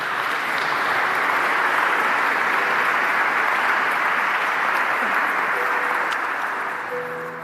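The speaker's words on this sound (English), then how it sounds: "Give them a big round of applause." Sustained applause from an audience at an awards ceremony in Carlow Cathedral, a dense, steady wash of clapping that fills the whole stretch and fades slightly at the end.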